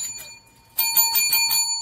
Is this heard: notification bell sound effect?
yes